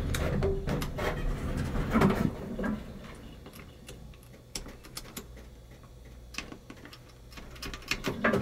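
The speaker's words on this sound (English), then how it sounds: "Hear the relay." Relays inside a 1967 Drolet hydraulic elevator at a Quebec hotel give off scattered sharp clicks and ticks, fairly faint against a quiet machine-room hum, with a few louder knocks early on.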